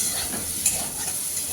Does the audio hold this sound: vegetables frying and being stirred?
yes